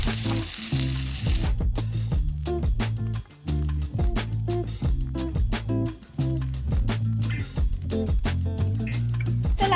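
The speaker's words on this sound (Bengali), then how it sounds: "এবারে আমি দিয়ে দিচ্ছি কুচানো পেঁয়াজ দিয়ে পেঁয়াজগুলো কেটে আমি লাল লাল করে ভেজে নেব" Chopped onions fry in hot oil in a pan, a continuous loud sizzle with crackling bursts and occasional stirring scrapes throughout.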